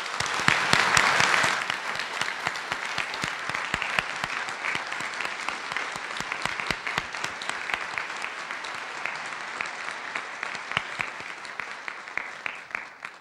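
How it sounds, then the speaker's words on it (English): An audience at a charter school's Charter Day ceremony applauds seniors with dense, sustained clapping that is loudest at the start and then slowly thins out over about thirteen seconds. "So how about a round of applause for these seniors?"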